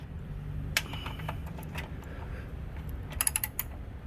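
Bolts are tightened back up on a Yamaha SX jetboat, with quiet clicking ratchet strokes and small metallic ticks in irregular bursts against a faint background hum.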